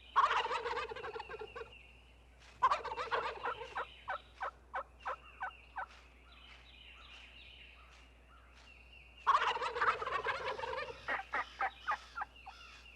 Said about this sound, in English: the toms gobble to attract the hens